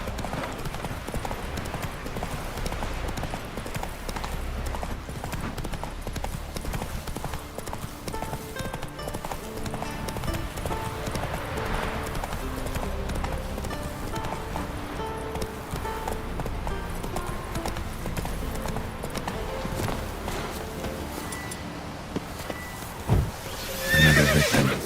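Roach the horse gallops in The Witcher 3, rapid hoofbeats pounding continuously under game music, with a clear neigh rising partway through.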